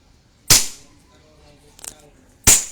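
1911 Hi-Capa Dragon Slayer airsoft pistol fired outdoors near trees, two sharp close snapping shots about two seconds apart, with faint murmuring voices in between.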